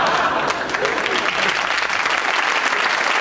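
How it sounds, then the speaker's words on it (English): Studio audience applauding steadily, a dense wash of clapping that fills the moment without a break, close and fairly loud. "Oh, stop applauding."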